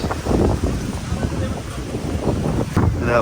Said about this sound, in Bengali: বাসার ভিতরে কিন্তু এরকম বাতাস নাই বাপরে বাপ সেই বাতাস